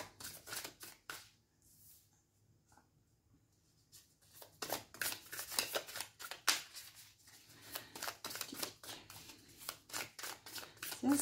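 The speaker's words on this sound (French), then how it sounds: "C'est assez long de les brasser." Oracle cards being shuffled by hand, a run of crisp riffling and flicking bursts that thin into a quiet pause and then return denser and louder, close to the listener, with no talking.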